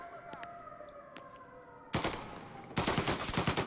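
Gunfire in Mafia Definitive Edition erupts partway through as a sharp, loud burst, then a second rapid volley follows, after a quieter stretch of steady tonal background sound.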